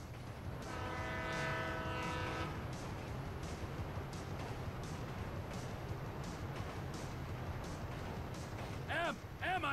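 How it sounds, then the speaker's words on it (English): A train in Grand Theft Auto V rumbles past, and its horn blows a sustained chord early on. Heavy rolling noise continues throughout, and voices are heard briefly near the end. "train ain't stopping here, boys!"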